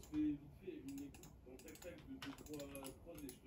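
Computer keyboard keys pressed in a quick, faint run of clicks and taps while editing in Adobe Premiere Pro, with soft talking underneath.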